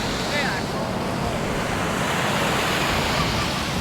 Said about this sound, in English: It's a really beautiful section of the ocean here.